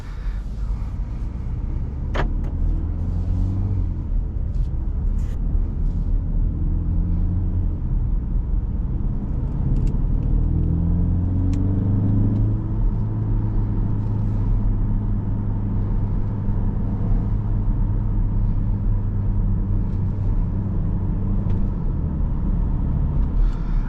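A 2025 BMW X1 28i driving, with a low engine rumble and road noise inside the cabin, building gradually as the car accelerates, with a few faint clicks and no talk.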